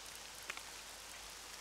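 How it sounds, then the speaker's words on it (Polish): Rain falling in the RollerCoaster Tycoon 3 theme park game, a faint steady hiss of rainfall with a couple of soft drop taps, no voices. "jest deszcz, pada deszcz"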